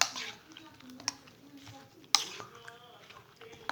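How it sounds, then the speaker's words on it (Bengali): A spoon stirring honey into milk with chia seeds, soft scraping swirls and a couple of sharp clinks against the container, close and quiet, with a voice talking over it. "এভাবে একটু নেড়ে নেবে"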